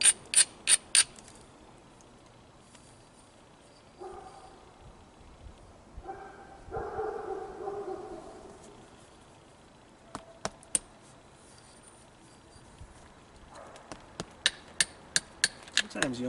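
Sharp clicking strikes of flint knapping on a novaculite spear point of leaf point style, clustered in quick bursts near the start and end with scattered single taps between, close and clear over quieter rustling.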